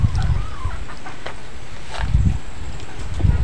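A backyard chicken clucks softly in short low bursts, close by, with faint rustling and scratching around it.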